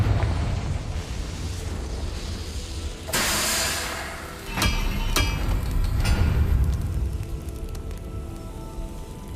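A Confringo fire spell bursts in Hogwarts Legacy, a loud roaring, hissing blast over a steady dense rumble of game ambience, with a couple of sharp cracks following the main explosion.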